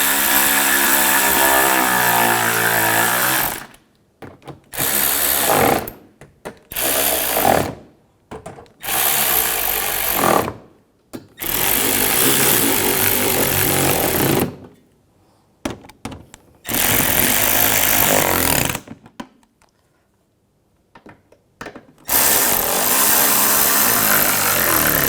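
Cordless power tool driving screws on a 2006-2010 BMW 550i headlight, loud repeated whirring bursts of a few seconds each separated by short pauses, close up with no talking.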